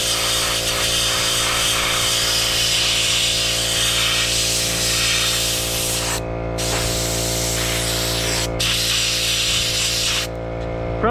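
A $35 Harbor Freight sand blaster sprays continuously at close range against silicone rubber stuck on a big block intake manifold, a loud steady hiss with a compressor hum underneath and a few brief pauses, no talking.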